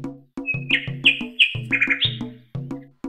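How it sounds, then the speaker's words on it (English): A bird, given as a nightingale, sings a rapid string of chirps and whistled notes with clear gaps between them, close and fairly loud, with no voices. "Nightingale."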